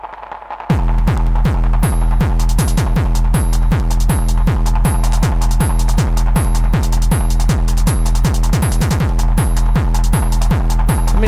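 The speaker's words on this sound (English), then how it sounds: "if it's just an 8-bar loop, it's just going to sound like this." A groovebox runs a plain, repetitive 8-bar loop of steady pulsing beats, loud and close, with a thumping low pulse and sharp high ticks repeating evenly throughout, no talk.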